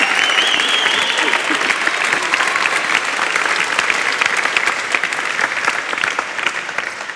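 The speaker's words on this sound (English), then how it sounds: "give her another round of applause" Sustained audience applause fills a startup demo day closing event, a dense wash of clapping from a large crowd that holds steady and tapers slightly near the end.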